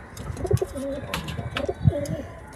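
Pigeons at their coop cooing while being fed, several soft throaty coos close by in quick succession, with light rustling and chirps in between.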